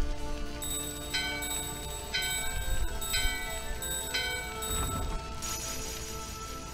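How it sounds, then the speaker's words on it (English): Game bells from Final Fantasy IX chime repeatedly in a steady, bright ringing pattern over a continuous music and ambience bed, with no talk. "Alright, that's the second bell."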